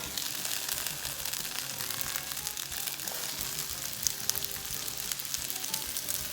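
Vegetables for salsa verde sizzle in about a tablespoon of hot oil in a skillet, a steady loud frying hiss throughout with occasional pops and crackles.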